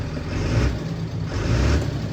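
A Fendt 926 Vario tractor with a 290 hp MAN engine idles steadily at close range, producing a continuous low diesel rumble with little change in pitch.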